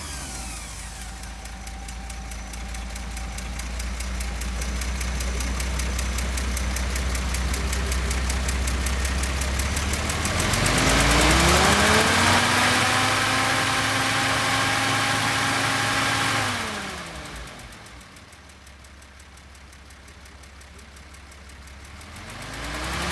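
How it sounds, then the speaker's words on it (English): The engine of a 1945 Lohner Dodge turns over and settles into a steady, rumbling idle, revs rise briefly in the middle and then fall back to a lower idle, close and continuous with no talking. "just going to start the motor to show you how that runs"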